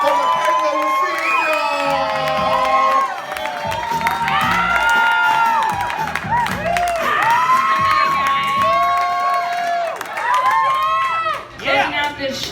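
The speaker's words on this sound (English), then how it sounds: "I'm gonna need you to start clapping right now. Start clapping right now for Michaela Lassig." A comedy club audience claps, cheers and whoops loudly for a stand-up comedian coming to the stage. The crowd noise stays dense and close throughout, with shouts rising above it.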